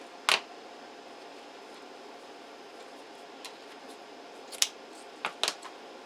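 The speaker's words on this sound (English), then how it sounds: "I'm just going to cut the 1-inch ribbon on a slant" Scissors snip through 1-inch bow ribbon cut on a slant: a few short, crisp clicks, one near the start and a quick pair toward the end, close and fairly quiet against a faint room hush.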